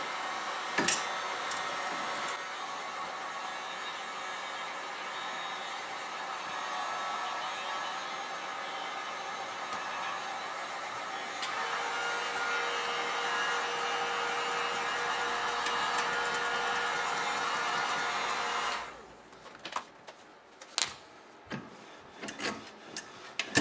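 A heat gun blows steadily on a car fender for about nineteen seconds, a continuous broadband roar with a slight shift midway, then cuts off, leaving a few faint clicks and handling knocks.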